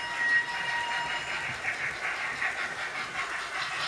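A Hornby TTS sound unit in a King Class model steam locomotive gives off a continuous hissing chuff with a faint whistle-like tone, steady and fairly close, no speech.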